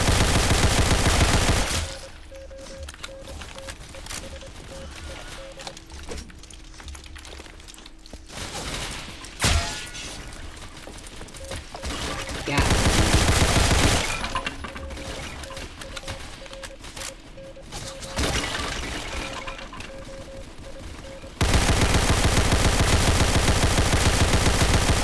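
A German LMG light machine gun in the Roblox war game ENTRENCHED fires in long sustained bursts, loud rapid automatic gunfire stopping and restarting several times with quieter gaps of distant battle noise between.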